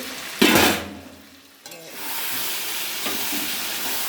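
Mutton sizzling and frying in a pan as it is stirred, a loud burst of sizzle up front settling into a steady hiss of cooking with occasional scraping.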